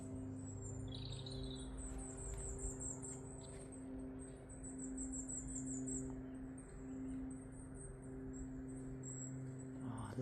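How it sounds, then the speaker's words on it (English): Long-tailed tits call at Chirk Castle gardens in Wales, giving faint, high, thin chirps in short bursts over a steady low hum and quiet background. "I can hear some long-tailed tits."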